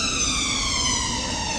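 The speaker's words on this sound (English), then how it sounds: "ambulance." An ambulance siren sounds loudly in a city street as a steady, sustained electronic wail, close and alone for a brief moment.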